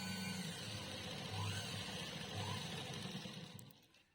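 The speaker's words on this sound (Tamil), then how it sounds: "எப்போதுமே பேக் ஸ்டிச் போடுங்க." A sewing machine runs a back stitch with a steady, fast mechanical whir and a pulsing needle rhythm, then slows and winds down in the last moments.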